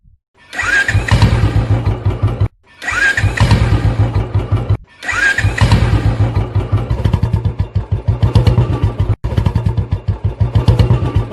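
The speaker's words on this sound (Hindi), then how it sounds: "बहुत सा सेल्फ, बहुत सी किक मारने के बाद भी बुलेट ने कोई भी प्रतिक्रिया नहीं दी।" A Royal Enfield Bullet motorcycle fails to start as the self-starter cranks in long, loud, rapidly chugging bursts, broken by brief pauses, without the engine ever catching.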